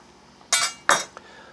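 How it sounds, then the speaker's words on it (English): A knife cuts through hot pastrami at an angle in two short, close scraping strokes on a board, followed by a faint tap. "I'm going to take and slice this at an angle"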